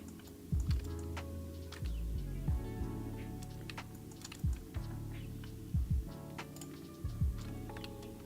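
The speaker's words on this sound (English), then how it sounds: "we can actually start typing in stuff" Keys clatter on a computer keyboard in short irregular bursts of close, crisp clicks with brief pauses between runs of typing, and no voices.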